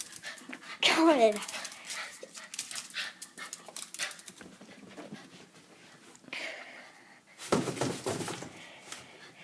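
A dog chasing a light pants and whimpers close by, with quick scrabbling and brief higher whines, while people talk over it and a thump or slam lands near the end.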